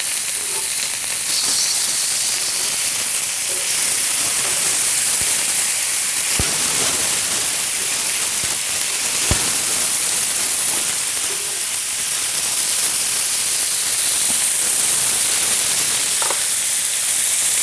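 Tandoori lamb chops sizzle loudly in a hot pan after being flipped, a dense steady hiss and crackle with a few sharp pops, continuous and close with no voices.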